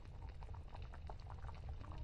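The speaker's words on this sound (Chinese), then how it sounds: "沸腾将会持续4个多小时。" A pot of crushed walnuts boils over high heat for oil extraction: a dense, steady bubbling and popping, close and moderately quiet, with no voices.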